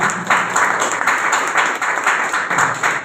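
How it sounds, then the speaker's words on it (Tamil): An audience at a team gathering in Gudalur breaks into loud, sustained applause, dense clapping that carries evenly for a few seconds with no pause. "கொஞ்சம் பாராட்டு கொடுங்க"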